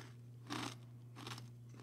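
Carolina Reaper potato chips crunched between the teeth, two short crisp bites about three-quarters of a second apart over a low steady hum, close and quiet, with no talking.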